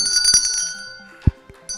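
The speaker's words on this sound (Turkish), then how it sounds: "sanki böyle aynı anda salladınız zili" A small hand bell rung by a quiz contestant gives a bright metallic ring that decays slowly, followed by a few faint knocks in a quiet room.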